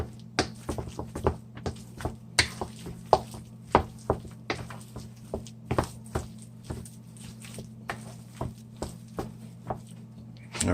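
Mayonnaise being stirred into a dish, a spoon knocking and squishing against the bowl in quick, irregular taps over a steady low kitchen hum.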